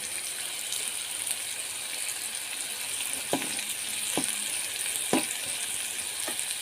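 Spices fry in oil in a kadai with a steady, hissing sizzle, broken by four sharp spoon taps against the pan in the second half; no voices.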